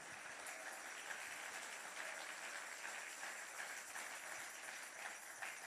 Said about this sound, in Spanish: Si usted lo cree, déle un aplauso fuerte al Señor.